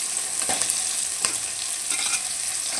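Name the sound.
tomato frying with sautéed onions for fish curry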